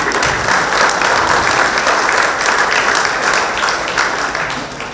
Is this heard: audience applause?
yes